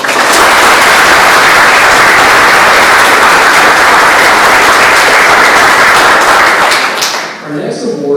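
Loud, dense applause fills a room at an awards luncheon, sustained clapping from a large audience that fades near the end as a voice begins to speak.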